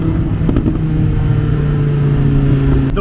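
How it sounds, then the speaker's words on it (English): Audi R8 with V10 engine and automatic transmission accelerating hard from inside the cabin, a loud sustained engine roar with rising pitch and a quick shift near the end. "The way that this automatic transmission shifts, oh my gosh."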